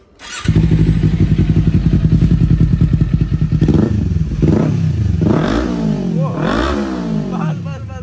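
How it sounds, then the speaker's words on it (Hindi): A Kawasaki Ninja motorcycle fitted with an Akrapovic exhaust, idling in neutral, runs loud and close with a steady rapid throb, then several sharp throttle blips rise and fall in quick succession. "सुन लो भाई, ये देखो भाई एग्जॉस्ट,"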